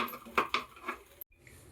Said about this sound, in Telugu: ప్రత్యేకంగా చేపల కూర కానీ కొన్నాం ఈ గిన్నె